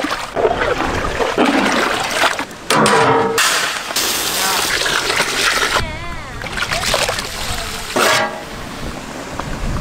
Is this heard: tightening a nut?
no